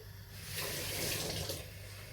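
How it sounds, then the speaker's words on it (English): Water pours steadily into a blender for about two seconds, a soft rushing splash that swells in the middle and then tapers off, close by and alone. "a tiny bit of water in, just because the blender sometimes needs a little bit of help"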